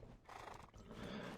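A horse in the online game Black Desert Online gives a short neigh mixed with hoof clip-clops, quiet and brief, with no talking.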